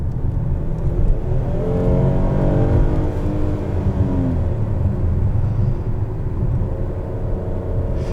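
The 3.8 engine of a 2022 Hyundai Palisade Calligraphy accelerates on the road, a steady low rumble with a rising engine note climbing under the cabin drone, heard from inside and without voices.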